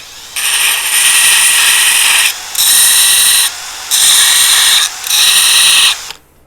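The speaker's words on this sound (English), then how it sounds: "sand this down real quick." A power sander grinds down a flintknapping tool in four loud, steady bursts of about two seconds each, separated by brief pauses, with no talking.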